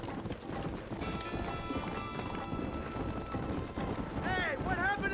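Horses galloping in the video game Red Dead Redemption, a dense rumble of hoofbeats under music and wind, with a horse whinnying toward the end.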